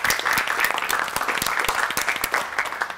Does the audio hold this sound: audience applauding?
yes